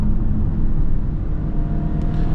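An Audi RS7 in fifth gear under acceleration, heard from inside as a loud, steady low engine drone and road roar with little change in pitch.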